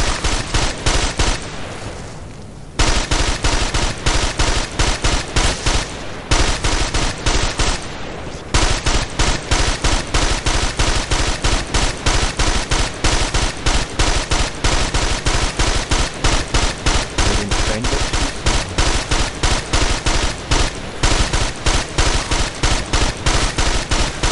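Rapid, continuous gunfire in the tactical shooter Ghost Recon Advanced Warfighter, loud close bursts of shots repeating in steady volleys over about twenty-four seconds, broken by two short pauses near the start.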